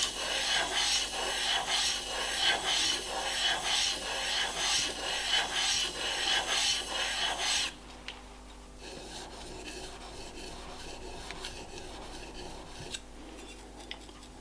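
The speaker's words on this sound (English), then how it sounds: "Then I can move over to the hard stone. Not so much for grinding as for polishing" A woodworking blade is sharpened on a hard polishing stone, giving close rhythmic rasping strokes back and forth, then stopping about halfway through, leaving a quiet hum with a few faint clicks.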